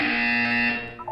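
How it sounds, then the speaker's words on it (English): A buzzer from the video game Portal 2 sounds as one steady, harmonically rich electronic tone lasting about a second, then tails off with a brief wobble at the end. "You will hear a buzzer."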